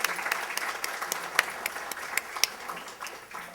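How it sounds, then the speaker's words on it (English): A small crowd at a graduation gala applauds, a brief burst of scattered hand clapping that fades slightly toward the end. "let's give them a round of applause"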